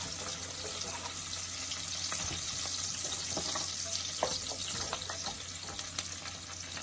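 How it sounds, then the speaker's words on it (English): Chopped onions with seasoning sweat in a pan, giving a faint, steady sizzle with occasional clinks and stirring scrapes close by, and no voices. "We're gonna sweat the onions so it's nice and translucent."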